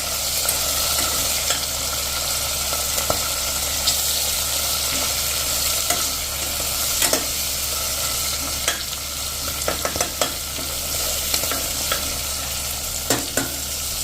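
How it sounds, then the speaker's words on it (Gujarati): Peas sizzling and frying steadily in hot oil in a pan, a continuous close crackle with occasional soft stirring clinks throughout, no voices. "આ રીતે આપણે વટાણાને સરસ તેલમાં કૂક કરી લેશું એટલે એની કચાશ દૂર થઈ જાય"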